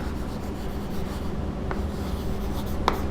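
A pen writing during an accountancy lesson: a soft, continuous scratching and rubbing close by, with a couple of faint taps.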